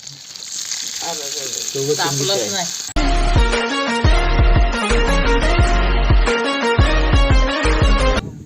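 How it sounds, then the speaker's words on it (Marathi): Stuffed eggplants sizzle in a frying pan as they are stirred, with a voice speaking over the hiss early on before loud rhythmic music takes over and largely covers the frying. "आई कसे वांगे मस्तपैकी फ्राय करून मग फ्राय म्हणजे हलवून घेते"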